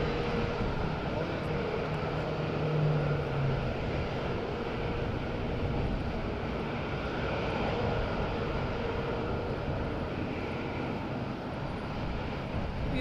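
A TUI airliner approaching to land in wind at Madeira Airport gives off a steady, broad engine rumble mixed with wind noise, distant and sustained.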